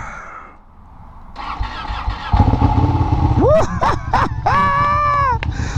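A newly built Ducati Panigale motorcycle cranks and fires up close by, catching into a loud rumbling idle with a few sharp throttle blips that rise and fall before settling into a steady high-pitched rev.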